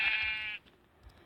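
A single sheep bleat from Minecraft, a short bright wavering cry that cuts off abruptly, heard alone with no talk over it.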